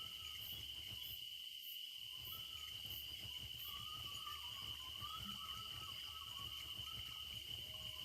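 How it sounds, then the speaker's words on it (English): Crickets chirp steadily in a night setting of the fishing video game Fishing Planet, a constant high insect trill over a quiet ambient bed, with no talk. "Just want to hear the crickets."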